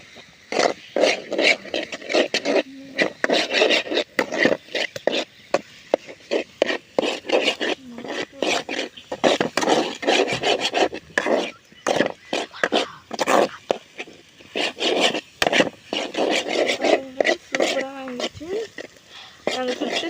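An egg is stirred with spices in a pan, producing repeated scraping and rubbing strokes of a utensil against the pan in an uneven rhythm, close and fairly loud, with speech mixed in.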